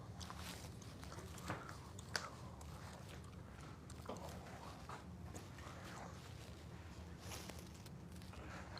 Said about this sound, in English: I wonder if I'm chewing my gum so hard everybody can hear it